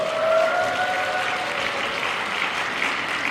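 A church congregation applauds during a sermon, a dense, even patter of many hands that fills the hall and fades slightly toward the end.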